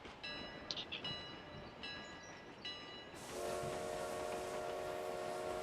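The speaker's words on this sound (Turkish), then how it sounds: "İnşallah tren geliyor." A video game train rumbles steadily with clanking, then a long sustained horn blares over the noise, loud and close.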